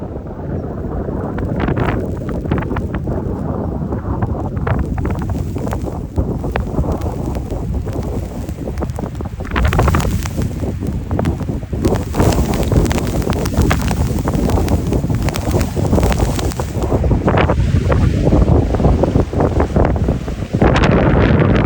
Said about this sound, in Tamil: காற்று கூடுதலாக அடிக்க இந்த மணல் எல்லாம் வந்து ஒரு புயல் மாதிரி நல்ல திரண்டு அப்படி காற்று கடலை நோக்கி வந்து வேகமாக அடிக்குது